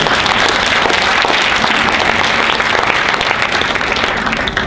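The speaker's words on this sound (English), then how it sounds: "Can we give him a round of applause?" An audience at a face reading lesson gives loud, sustained applause, a dense wash of clapping that continues throughout.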